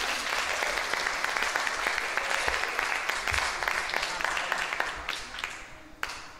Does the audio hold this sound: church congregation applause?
yes